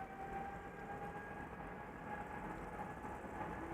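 Jet engines of a Delta Airlines Airbus A330neo spooling up for takeoff at Amsterdam Schiphol, a steady distant rumbling roar with a faint whine, continuous and even.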